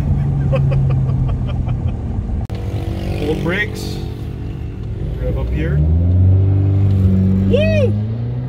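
A tuned BMW 520d diesel with its rev limiter removed revs hard in short bursts, the engine note rising and falling as it climbs, with a steady idle rumble underneath and people speaking over it.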